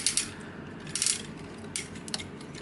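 Ratcheting universal hip joints on a Transformers Generations Roadbuster figure click in several quiet, close bursts of sharp plastic ratchet clicks with short pauses between them.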